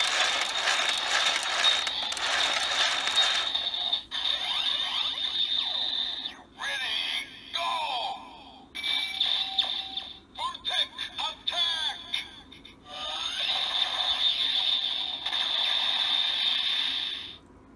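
A Kamen Rider Build transforming belt toy plays its Voltech Attack finisher effect: bright synthetic tones, whooshes and clanking mechanical bursts in rapid succession, loud and close, with no speech.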